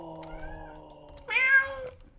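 A house cat meows indoors, one drawn-out rising call near the middle, loud and close over a faint low background hum, with no talking.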